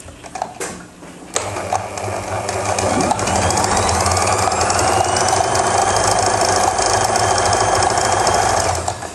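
A sewing machine stitching elastic onto trousers, starting with a few short bursts and clunks and then running in a continuous fast whirring stitch, loud and close, with no talking.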